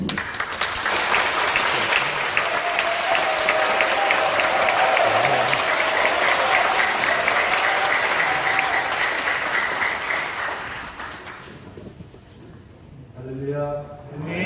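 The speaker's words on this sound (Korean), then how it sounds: "뜨거운 박수로 모실 때 큰 박수로 맞이하겠습니다" A church congregation at a Korean Methodist revival service applauds the arriving guest pastor, with steady dense clapping for about ten seconds that then fades out as a voice begins speaking.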